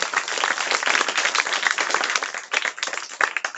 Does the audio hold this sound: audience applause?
yes